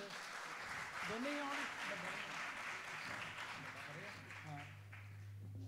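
An audience at a live Punjabi music concert applauds in a steady, moderately loud wash of clapping, with voices calling out over it and a low hum rising toward the end.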